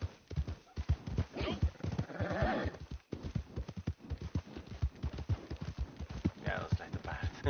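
A horse in the video game Red Dead Redemption 2 clops along with rhythmic hoofbeats throughout, broken by a couple of neighs and whinnies, close and clear, with speech mixed in.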